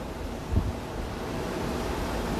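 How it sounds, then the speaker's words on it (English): Steady low wind rumble buffeting the microphone throughout in a penthouse in Cancun, Mexico, with a brief thump near the start and no voices. "It's trying to get windy in here."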